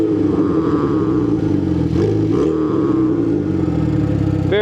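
A 2.0L Ecotec LNF/LDK engine running after a fuel pump replacement, a steady loud idle with a slight dip midway and a sharp rise in revs at the end.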